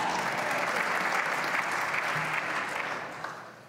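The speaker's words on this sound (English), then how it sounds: "you can clap for that" An audience at the 2016 Wisconsin State of the State Address applauds in a dense, steady wash of clapping that fades out near the end.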